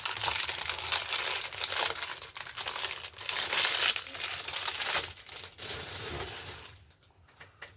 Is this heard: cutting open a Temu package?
yes